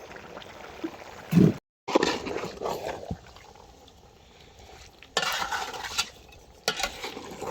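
Biryani masala, meat and fried potatoes being stirred and sautéed together in a pot, with scraping strokes and a soft sizzle in bursts, one sharp clatter and brief gaps between stirring.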